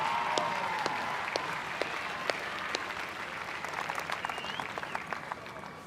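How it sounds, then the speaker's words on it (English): A crowd applauds Steph Hancock at a Women's State of Origin rugby league trophy ceremony, sounding distant and faint: a sustained patter of clapping with a few sharper individual claps standing out. "Give her an applause"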